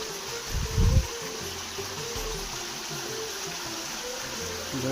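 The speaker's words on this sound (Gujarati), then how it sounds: "જો પાણી જાય છે, અવાજ આવે હ" A small stream flows at a steady low wash. A few brief low thumps come near the start, likely handling noise close to the microphone.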